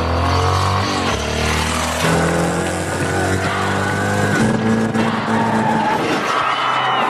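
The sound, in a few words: home-built motorcycle being test ridden, in a film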